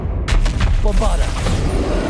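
Bombarda spell blast in Hogwarts Legacy gameplay: a sudden loud explosive boom at the start, followed by a rolling, crackling rumble that fades into sustained noise.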